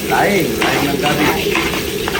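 Garlic, onion and ginger sauté in a pan for laing, a loud close sizzle with spatula stirring and pan clatter, while a voice briefly sounds at the start.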